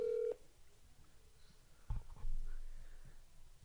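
Phone being dialed on speakerphone, a short steady dial tone at the start, then a few faint tap and handling clicks, and later a low muffled rumble.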